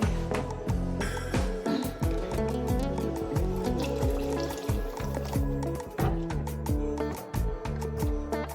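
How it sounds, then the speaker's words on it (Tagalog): Water poured into a dark, well-used frying pan for a pea vegetable soup, a steady liquid splash and fill sound with sizzling bursts, loud and continuous throughout. "So, nabagyan natin ng konti pang tubig."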